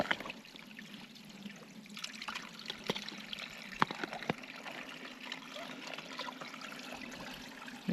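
Small creek water trickling and dribbling over rocks outdoors, a steady close gurgle with brief splashy accents, running alone without talk.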